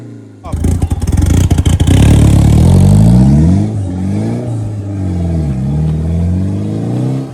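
A Series One Datsun 240Z engine is blipped hard at close range, then settles into a loud rising and falling rev, the pitch sweeping up and down several times under a rough idle.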